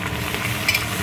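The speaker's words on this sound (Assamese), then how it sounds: "ভালকৈ ভাজিব লাগিব" Onions, meat and spices fry in a pan for a meat curry, giving a brief, dense, continuous sizzle with stirring.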